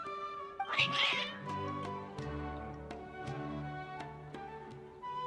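Cats in a video game meow repeatedly up close, some calls drawn out into yowls, with a soft musical background and light ticking underneath.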